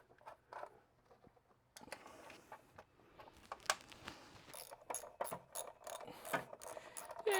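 A ratchet snugging the nuts on a Honda Element engine cover: quick bursts of close clicking with some mechanical rattles, fairly quiet and without speech.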